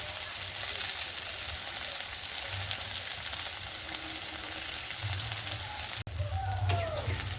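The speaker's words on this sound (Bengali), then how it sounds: "ঢেঁড়স অল্প একটু ভাজা ভাজা হয়ে গেছে, এর মধ্যে দিয়ে দেবো কুচিয়ে রাখা পেঁয়াজের টুকরো" Okra frying in a pan with chopped onion, a steady crackling sizzle that carries on at an even level, with a brief stir and clatter near the end and no talking.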